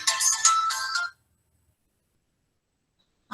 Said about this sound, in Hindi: एक सेकेंड ना, मेरे को मोहन सर का फोन आया